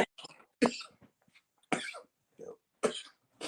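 Several sharp coughs in separate bursts, fairly close, with quiet pauses between them.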